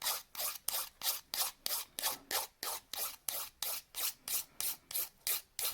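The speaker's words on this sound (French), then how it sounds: "c'est important de bien limer." A fingernail being filed with a nail file in preparation for gel: about fifteen quick, even rasping strokes in a steady back-and-forth rhythm, close and soft, with no talking.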